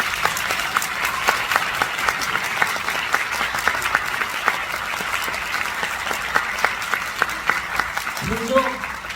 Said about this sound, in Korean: 여러분 박수 좀 부탁드리겠습니다